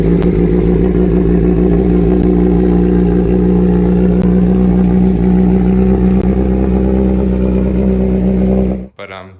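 A 2023 BMW M1000RR Competition motorcycle idles loud and close with a steady throbbing engine note that bumps and surges slightly in rhythm, running continuously before cutting off abruptly at the end.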